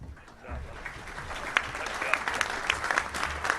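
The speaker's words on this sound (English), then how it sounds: "let's give him a big round of applause" A room at a high school football awards luncheon breaks into applause for a Player of the Week recipient, moderate clapping that swells after a quiet start and holds steady with a few sharper claps, seemingly under faint voices.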